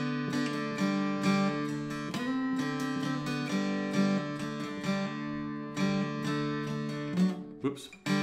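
A riff is played on a guitar, a steady, close, continuous stream of plucked notes over ringing drone strings, with no talk.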